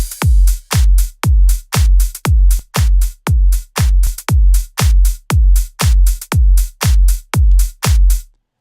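Deep house drums squashed hard by an OTT compressor in Ableton, a steady four-on-the-floor kick with bright tops pumping evenly at a brisk tempo, dense and loud, no talking.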